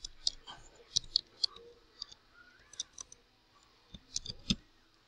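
Sharp computer keyboard keystrokes typing a Windows command prompt command, with irregular clicks in quick bursts followed by a louder final key press, close and fairly quiet.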